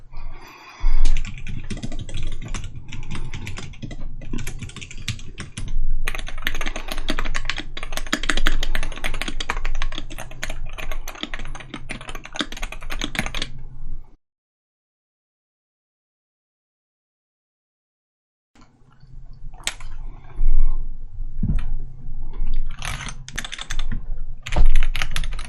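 Typing on a Wooting HE60 mechanical keyboard, dense rapid clacking keystrokes in long bursts, close and loud, with a silent pause midway before typing resumes.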